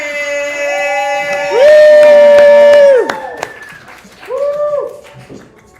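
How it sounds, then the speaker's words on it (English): Poetry slam crowd cheering for the next poet, with loud rising whoops and sustained shouts at first and a second burst of whooping after a short lull, plus scattered claps. "Make some noise for MC Dirty Hands"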